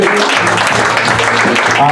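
An audience at a comedy club applauds after comedian Jay Nog's set, loud and close, a dense burst of clapping with a host's voice talking over it.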